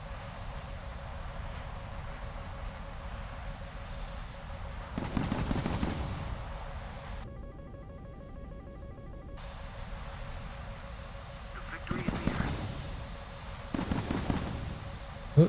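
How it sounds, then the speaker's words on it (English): Gunfire aimed at a player's aircraft in War Thunder comes as bursts of rapid machine-gun fire over a steady engine drone, several separate clusters of shots spread across the stretch. "Who is shooting at me?"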